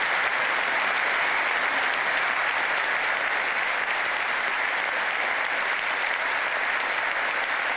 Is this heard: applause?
yes